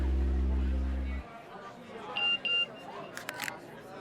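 A phone message notification plays two short, bright electronic beeps, followed by a few quicker chirps, after a low droning background cuts off; the tone sounds close and clear over a quiet room.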